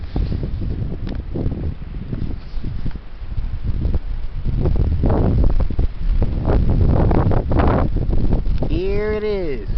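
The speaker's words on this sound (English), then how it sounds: "The heavy wind." Heavy wind buffets the microphone in loud, rough gusts that build and rumble throughout, with a voice speaking under the roar.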